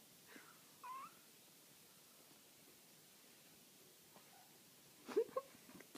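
Kittens give a few faint, thin meows, two early and a louder cluster near the end, in an otherwise quiet indoor room.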